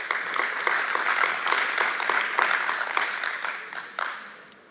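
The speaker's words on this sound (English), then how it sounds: "A round of applause for that." An audience claps steadily for a few seconds, a dense patter of many hands that tapers off toward the end.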